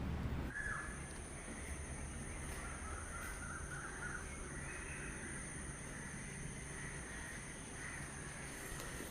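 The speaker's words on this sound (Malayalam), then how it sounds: "പതിവ് പോലെ കിളികളുടെ ശബ്ദമൊക്കെ ഉണ്ട്" Crows caw repeatedly in the morning, some calls near and some farther off, over a steady wash of ambient outdoor noise and faint chirps from other birds.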